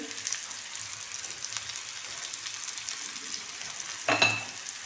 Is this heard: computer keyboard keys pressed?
no